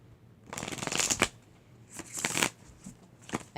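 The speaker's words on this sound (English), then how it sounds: "I'm shuffling on camera" Rapid riffling of tarot cards being shuffled in bursts, close and crisp, with short pauses between each shuffle and no talking.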